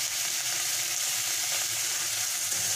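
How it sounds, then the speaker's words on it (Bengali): Prawns fry in hot oil in a home village kitchen, giving a continuous, close, bright sizzle with a steady crackle and no talk. "ওই তেলে আমি চিংড়ি মাছটাকে দিয়ে দিচ্ছি। চিংড়ি মাছটাকে ভেজে নেব।"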